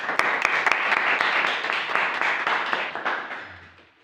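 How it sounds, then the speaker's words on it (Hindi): Audience applause welcoming a master performer onto the stage at a Saraiki cultural event, a steady wash of claps with sharper individual hand strikes that gradually fades out over a few seconds. "तो आप सबकी भरपूर तालियों में उस्ताद नज़र हुसैन।"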